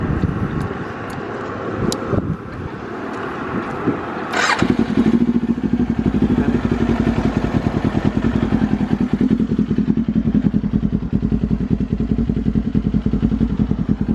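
A warmed-up Kawasaki Ninja 400 with about 17,000 km on the odometer idles with faint clatter, then the throttle is blipped and the engine climbs into a loud, sustained rev that holds close to the microphone.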